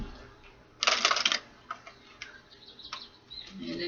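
Fortune-telling cards give one quick shuffling burst near the start, followed by faint scattered taps and light handling noises in a quiet room, with a soft voice at times.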